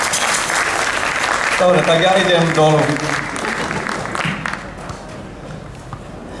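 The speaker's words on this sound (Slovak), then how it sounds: "Poprosím aj potlesk pre pána Zelenaja." Audience clapping at an outdoor brass concert on a riverside embankment, a steady wash of applause that fades over the last seconds while someone speaks briefly over it.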